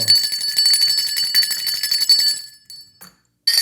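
A bell rings rapidly and repeatedly, bright and metallic, then stops; a brief ring starts again at the very end.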